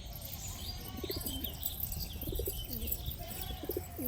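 Domestic pigeons cooing in a loft, a breeding flock with one hen about to lay, giving soft repeated throaty coos close by, with faint chirps and light wing flutters behind, no voices.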